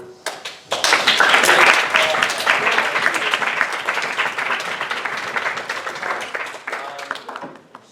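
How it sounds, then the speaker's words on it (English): A room at a student government senate meeting breaks into a round of applause, dense clapping that swells quickly, holds for several seconds, then thins out and fades. "Round of applause."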